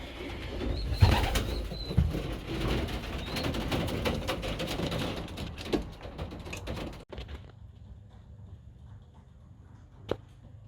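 Pigeons in a pigeon loft, with soft cooing, scattered wing flaps and knocks from nearby birds over a low background hum, faint and close, ending with quieter ambience and a single sharp tap.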